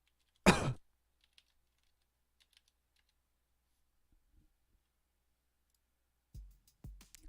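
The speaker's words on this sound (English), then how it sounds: "I'm typing in what it says" Typing on a computer keyboard in a quiet room: a sharp burst of clatter near the start, then sparse faint key clicks and a few louder taps toward the end.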